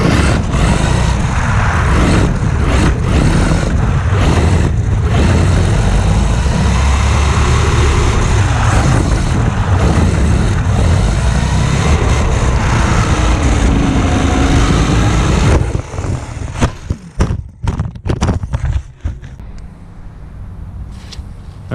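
Haiboxing 2995 RC desert truck on a 3S battery tearing through grass: a loud, close, continuous motor whine and rushing roar that cuts off near the end into scattered bumps and quiet.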